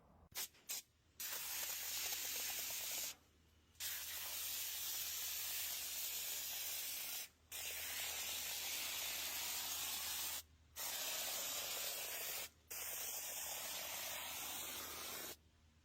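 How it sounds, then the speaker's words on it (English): Adhesive Guru spray foam insulation hisses steadily from a can in long continuous bursts, with several brief pauses between sprays, loud and close with no talking. "This is Adhesive Guru spray foam insulation, 20 square feet per can per inch."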